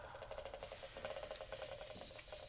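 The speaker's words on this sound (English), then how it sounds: "At length, there's a hissing sound," A continuous airy hiss from a steam jet sprayed by a Martian machine in a radio drama. It is faint and steady, with a slight pulsing texture, and carries on throughout with no voices.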